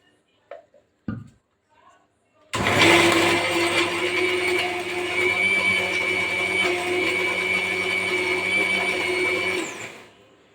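A mixer grinder blending pounded garlic starts after a few brief knocks, then roars loudly and steadily for about seven seconds before cutting off.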